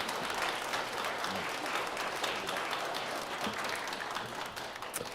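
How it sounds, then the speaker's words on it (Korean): A church congregation at Sunday worship applauds, a steady wash of many hands clapping at a moderate distance that fills the whole stretch without letting up. "보내주신 하나님께 영광의 박수 올리면서"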